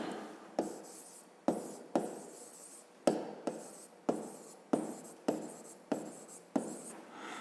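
Pen or pencil writing out a math problem's solution on paper in a quiet room, a steady series of close scratching strokes broken by short pauses, with no one speaking.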